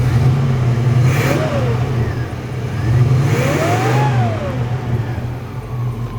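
A 1939 Oldsmobile F60 with a carbureted engine runs and idles smoothly, a steady close low hum with two brief revs rising and falling.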